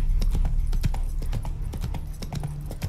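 Galloping horse hooves from The Witcher 3, a rapid steady clip-clop pounding close and loud over a constant low drone, with no talk.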